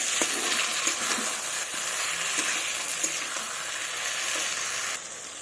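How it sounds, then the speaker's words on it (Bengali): Fried ridge gourd is stirred into sizzling spice paste in a pan for a fish curry, giving a steady loud frying sizzle with faint clinks of the spoon, easing slightly near the end. "তার আগে আমি ভেজে রাখা ঝিঙাটা দিয়ে দেবো, দিয়ে একটু নাড়াচাড়া করে নেব।"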